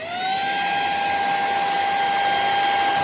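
A Semart cordless handheld car vacuum cleaner spins up and runs on suction. Its loud, steady motor whine has a high tonal hum and holds constant once it is up to speed.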